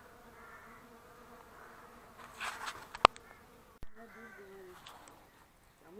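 Honey bees buzz near the hive in a garden, a steady layered hum of several insects close by with brief louder knocks and rustles partway through.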